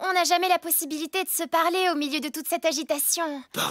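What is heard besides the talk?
No everyday noises stand out.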